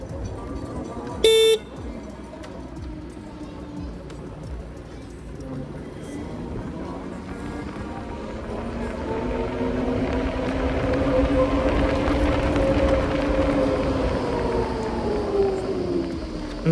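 An Ola S1 electric scooter pulls away at full throttle in street traffic, its motor whine rising steadily in pitch under a continuous road rumble, with a short horn toot near the start.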